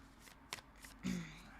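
Tarot cards being shuffled during a reading, a quiet riffle and brush of card stock with a few short soft bursts and a longer shuffle near the end.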